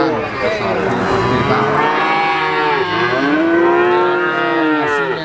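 Cattle moo loudly and at length at the Ambarketawang livestock market in Yogyakarta, with long overlapping calls and a busy crowd murmuring behind them.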